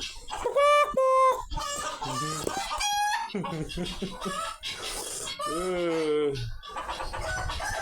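Chickens cluck and a rooster crows nearby in a busy farmyard cackle, with loud overlapping calls throughout and a rising, drawn-out squawk near the end.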